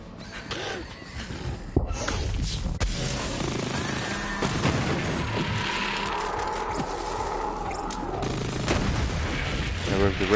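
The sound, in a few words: gunfire and bullet ricochet in video game Borderlands 3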